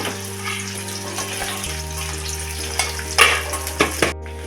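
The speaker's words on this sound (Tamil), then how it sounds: "இது எல்லாத்தையும் நல்லா வதக்கிக்கணும்" Ginger and small shallots sautéing in oil in a pan, a continuous close sizzle over a low steady hum, with a few sharper stirring scrapes and clatters toward the end.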